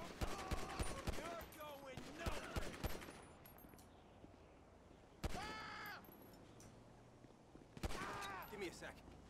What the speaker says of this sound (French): Ok, il y a une fusillade là-bas.